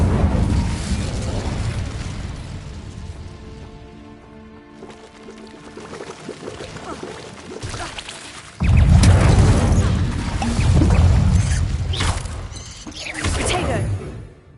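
Fire spell Incendio cast in a video game: roaring, whooshing fire bursts swell and fade, with a big flaring blast partway through and further rushing surges after it. Sound effects and game score surround the spell.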